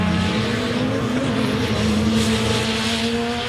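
A race car accelerating hard at the 2022 Race of Champions, its engine a loud, steady, close roar with rising tonal harmonics held for the whole stretch, with no voices.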